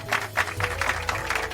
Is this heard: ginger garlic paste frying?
no